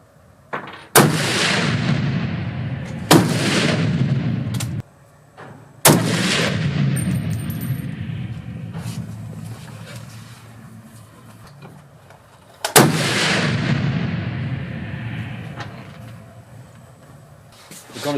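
Rifle shots ring out at a shooting range in Belgium, four loud sharp reports spaced several seconds apart, each followed by a long echoing decay, with no talk.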